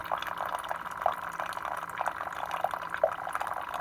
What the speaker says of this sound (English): it takes about 2 minutes for the water to come to a boil and to start pouring into your cup